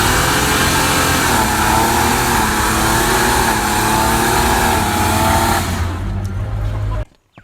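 A car engine revving hard and continuously in first gear during a burnout, loud and close, with a dense roaring drone that cuts off abruptly near the end.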